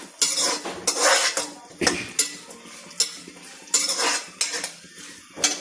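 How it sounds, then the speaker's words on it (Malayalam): A spoon scrapes and clatters through beef fry with sliced coconut in a pan, rhythmic metallic strokes repeating close up with a light sizzle between, no speech. "നന്നായിട്ട് മൂക്കുന്നിടം വരെ നമുക്ക് ഇളക്കി കൊടുക്കണം കരിയാതെ മൂപ്പിച്ചെടുക്കണം"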